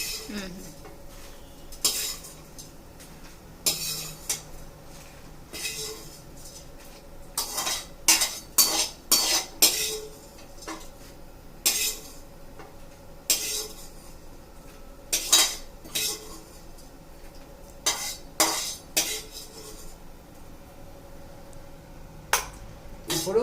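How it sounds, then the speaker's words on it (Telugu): Dry roasting curry leaves in a pan with no oil for a curry-leaf spice powder: a spoon or spatula repeatedly scrapes and clinks against the metal pan in irregular bursts, close and clear, with quiet room tone between strokes. "కరివేపాకి ఆయిల్ లేకుండా డ్రై రోస్ట్ అదే ప్యాన్లో డ్రై రోస్ట్ చేసుకోవాలి"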